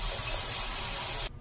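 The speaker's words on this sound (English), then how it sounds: "I'm gonna unscrew it a bit and just spray brake cleaner" Brake cleaner sprays in a steady, loud hiss from an aerosol can onto a part of a Nissan NV200 drum brake, running alone without pause before it cuts off abruptly.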